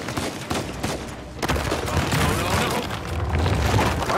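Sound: gunfire in the video game Uncharted 4

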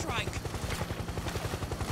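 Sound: helicopter in video game Metal Gear Solid 4

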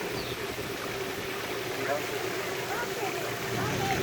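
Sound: waterfall

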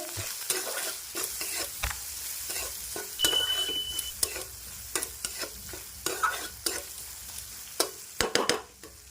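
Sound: stirring methi curry with turmeric and salt

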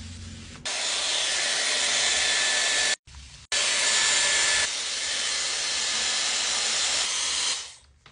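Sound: Dyson Airwrap hair styler running

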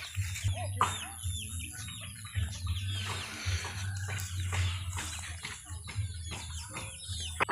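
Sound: chickens clucking

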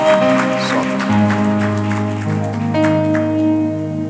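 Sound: congregation applause during church service

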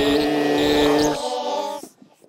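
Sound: voice changed by SuperCollider sound effect

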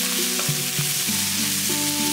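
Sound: vegetables and ingredients sautéing in a pan for risotto

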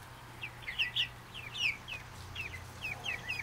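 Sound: New Hampshire Red and Jersey Giant chicks clucking

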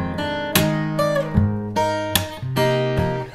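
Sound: acoustic guitar playing main theme with percussive strumming

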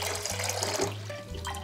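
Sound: water in a cooking pot

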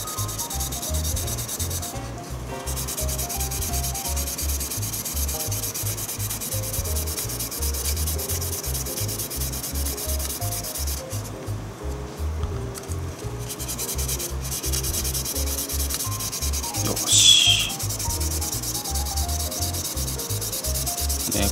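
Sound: sanding a 1/24 Aoshima model car body with sandpaper

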